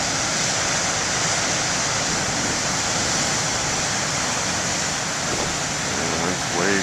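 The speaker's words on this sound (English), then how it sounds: "Yeah, nice waves here." Steady broadband roar of surf washing continuously on a lighthouse beach, loud and unbroken, with a voice briefly heard near the end.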